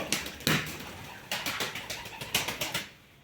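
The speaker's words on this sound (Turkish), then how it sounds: "Aktif uçuyor kuş." Repeated bursts of wing flapping from flying pigeons, several clustered flurries with short pauses between, fairly close and loud, with no voices.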